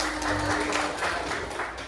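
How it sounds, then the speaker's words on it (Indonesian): A class of students claps hands together in a classroom, a dense, steady patter of many hands that runs through the whole moment, with a voice faintly underneath. "Tepuk tangan dulu semua."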